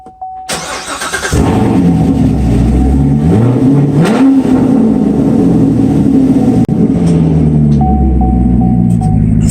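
A Corvette engine starts and revs hard, a loud close rumble that climbs and falls through several throttle blips before settling into a steady idle.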